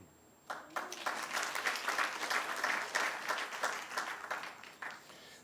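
Audience applause at a closing panel of a policy conference, starting abruptly and holding as a steady wash of many hands clapping, then thinning out near the end; quiet and fairly distant.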